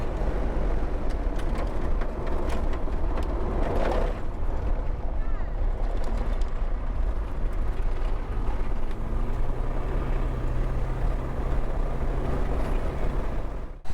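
Turbocharged engine of a 1988 Ford Merkur droning at a steady 4,000 RPM with no gear changes, a constant loud hum with wind rush throughout.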